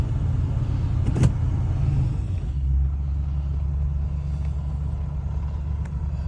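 A 1979 Lincoln Continental Town Car cruising with steady low engine and road rumble from inside the cabin, loud and continuous, with a brief click near the start and no talking.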